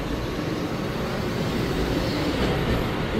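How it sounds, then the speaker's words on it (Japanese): A Keihan 8000 series limited express train for Demachiyanagi pulls in at platform 2 of Kyobashi Station, a steady, loud rumble of wheels and motors filling the platform without a break. "8000系のですね、出町柳行き特急電車が2番ホームに到着しました"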